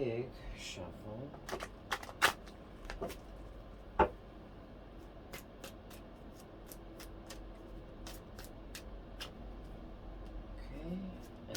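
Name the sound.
shuffling tarot cards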